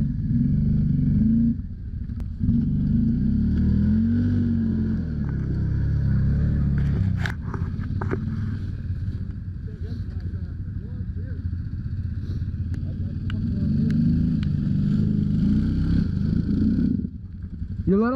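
An ATV engine drones steadily on a Newfoundland trail, loud and close throughout, with its pitch shifting as the throttle eases and picks up, and brief clatter from the machine over rough ground.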